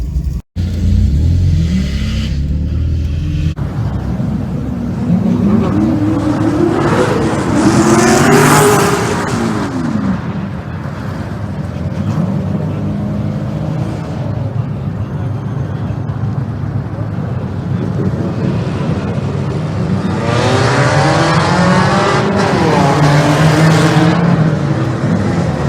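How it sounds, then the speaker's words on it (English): A drag car cruises a parade lap at the Freedom Factory spectator drags, its engine rumbling steadily close by and swelling with occasional revs, while voices talk over it. "Dad gets to take a lap with me in the car for the parade lap"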